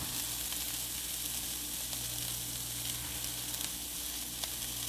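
Mushrooms sizzle steadily in a hot pan while being pushed around with a spatula, a dense, even frying hiss heard up close with no voices.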